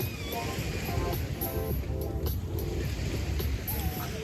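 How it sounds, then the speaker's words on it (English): Waves roll and wash onto a sandy beach in a steady, broad rush of surf, with wind noise and faint voices in the background. "There's some ocean waves crashing."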